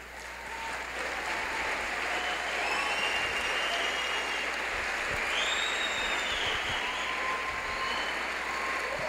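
Sustained applause from a large audience at a lecture, a dense even wash of clapping that continues steadily at moderate distance with a faint tonal whine above it.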